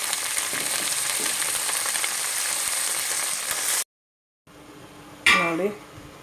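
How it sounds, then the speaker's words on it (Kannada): Drumstick leaves go into a hot frying pan with a strong, continuous sizzle that cuts off abruptly. A quieter hiss follows, with a brief voice near the end. "ಇವಾಗ ಇದಕ್ಕೆ ನುಗ್ಗೆ ಸೊಪ್ಪನ್ನು ಹಾಕ್ತಾ ಇದ್ದೀನಿ."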